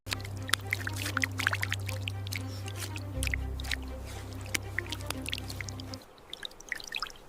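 River water flows with splashy trickles and scattered drips over a steady low hum that cuts out near the end, leaving only the water.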